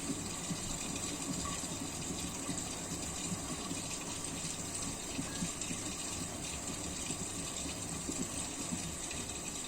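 Washing machine on its first rinse with a thick duvet inside, a steady faint wash of running water and pump hum continuing evenly throughout.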